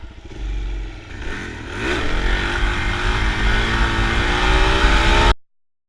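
A motorcycle engine revs hard and sustained through a wheelie, a loud, close, rising roar that builds steadily for about five seconds before cutting off abruptly.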